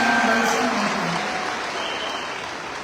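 Applause from a seminar audience, a steady wash of clapping that starts loud and slowly fades across the few seconds, with faint voices mixed in.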